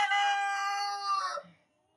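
A rooster crows loudly and close by, one long sustained cock-a-doodle-doo that fades out at the end, with no voices.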